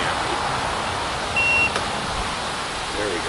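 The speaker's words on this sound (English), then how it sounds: "Let's just unplug that so it stops beeping at me." An AllPowers R600 portable power box sounds a single short error beep, a clear electronic tone lasting about a third of a second over a steady background hiss.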